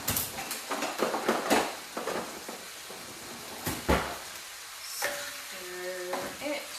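Chorizo and potato being stirred in a frying pan, a utensil scraping and tapping in bursts over a steady close sizzle, with a brief clatter near the end.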